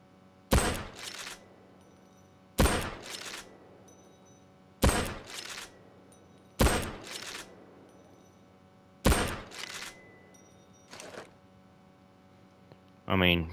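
A Mosin-Nagant sniper rifle fires in the Payday 2 video game, six sharp, loud shots spaced roughly two seconds apart, each with a short ringing tail, and a further burst right at the end.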